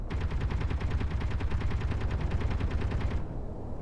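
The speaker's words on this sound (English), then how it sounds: "let's see if this turret can do a good job of shooting down" Video game turret blasting at incoming meteors during a meteor storm: a rapid, steady stream of loud automatic shots for about three seconds, then stopping abruptly, with no talk.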